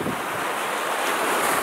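Ocean surf at Makalawena Beach on Hawaii's Big Island, a steady broadband wash of waves mixed with strong wind buffeting the microphone, continuous and loud with no voices.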